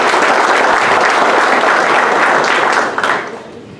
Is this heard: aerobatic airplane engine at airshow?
no